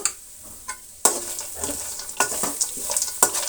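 Spoon stirring grated coconut and turmeric powder in a hot pan, with irregular scraping strokes and soft sizzling, close and moderately loud, with no voices.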